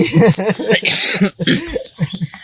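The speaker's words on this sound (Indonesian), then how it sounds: "Saya sudah 2 hari ini batuk" A person coughs repeatedly in quick, harsh bursts, close and loud, with short breaths between.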